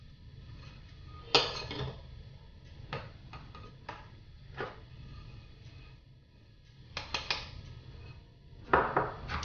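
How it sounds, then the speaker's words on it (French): A coconut oil, maple syrup and cocoa glaze being mixed with a whisk, heard as quiet, irregular clinks and taps of metal against a bowl, in bursts with pauses between them and no talking. "Je mélange bien au fouet."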